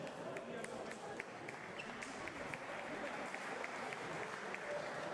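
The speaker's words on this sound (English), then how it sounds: "An applause for Ahmed Samy." Crowd applause at an LFL mixed martial arts main event, welcoming a fighter; a soft, distant wash of clapping fills the arena while some voices murmur underneath.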